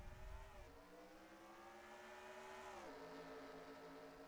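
Racing karts of the Kart Series on the track at Trenton, a faint steady engine drone with whining pitch sweeps as the karts shift and rev, heard from a distance without talk.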